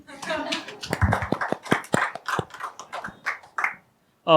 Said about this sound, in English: You can clap again if you like.